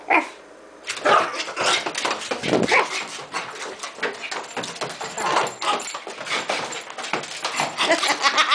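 Dogs bark excitedly and repeatedly at close range, with whimpers and scuffling in a continuous, noisy commotion.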